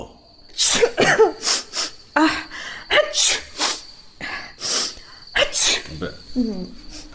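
Sneezes in a Bengali radio comedy drama come as a string of sharp, loud bursts and gasps, one after another, mixed with voices over a faint chirping insect background.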